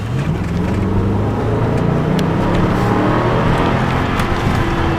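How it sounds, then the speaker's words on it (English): A BMW 650ci convertible's V8 engine accelerating hard in sport mode, a steady loud rumble with engine tones climbing in pitch toward the end, with no talking. "if you punch it, you'll get a nice V8 sound"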